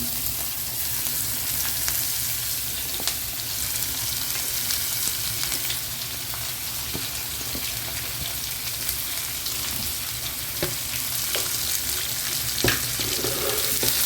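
Onions frying in oil for a wheat-flour spicy kuzhi paniyaram, a steady close sizzle with occasional crackles and pops running throughout, no talking.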